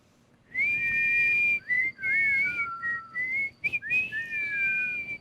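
Several people whistle together in sliding, wavering notes imitating otter calls, a series of bursts and short chirps, close and fairly loud.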